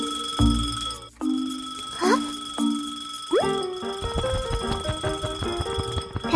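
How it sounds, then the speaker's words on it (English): Cartoon alarm clock ringing on a table, starting with ringing tones and springy boing-like notes, then a fast rattling ring that keeps going, loud and close, with no talking. "Suddenly, the clock starts ringing loudly."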